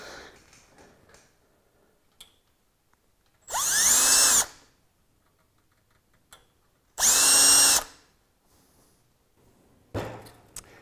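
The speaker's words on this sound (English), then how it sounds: "we'll go around and we'll finish up drilling these holes out." Two loud bursts of a power drill whirring as it drills holes through aluminum foil tape, each about a second long, separated by quiet pauses with faint handling noise and a light click near the end.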